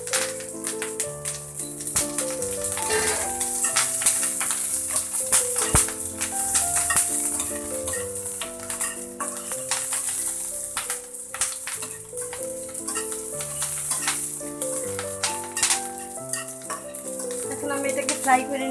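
Green chili slices fry with kalmi shaak in a pan, a steady sizzle under repeated scraping and stirring clatter, while background music plays throughout.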